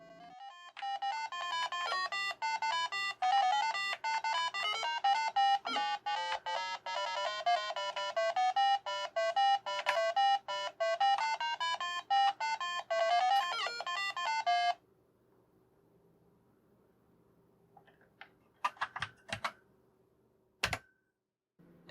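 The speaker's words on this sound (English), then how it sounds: "it just makes a bleep. But they decided to do music and sound effects anyway" Bleepy single-voice Acorn Electron music from the game Frak! plays in quick stepped notes for about fifteen seconds, then stops, leaving a few scattered short electronic sound-effect blips near the end.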